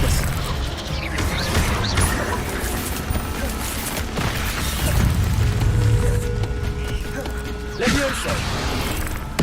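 The Expelliarmus spell is cast in Hogwarts Legacy with a busy magical whoosh, crackling clatter and booming impacts, layered with mechanical clanks and game effects, loud throughout; a voice speaks briefly under it.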